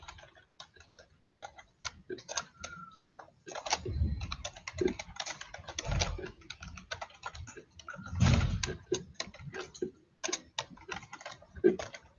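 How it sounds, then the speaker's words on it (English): Keys clatter on a computer keyboard in uneven bursts of close, crisp clicks, with short pauses between runs of typing and no talking. "Boy, I'm having trouble typing."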